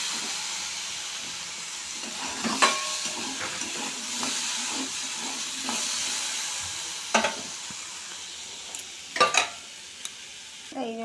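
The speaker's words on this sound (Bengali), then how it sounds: "লঙ্কা ছাড়া একটু ভেজে নেবো, দেখবো নরম হয়ে গেছে নাকি আলুগুলো" Potato pieces frying in a pan without chilli, oil hissing steadily with intermittent scraping stir strokes and a few sharper clinks of the spatula against the pan.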